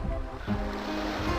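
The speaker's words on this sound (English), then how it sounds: "Juno's boat is going out to sea" Steady sea waves and surf wash continuously as a boat heads out to sea in Legend of Legaia, a full, even rushing sound with no talk.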